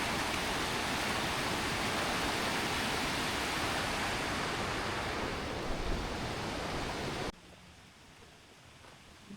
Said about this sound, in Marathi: इथे एक मस्त धबधबा आहे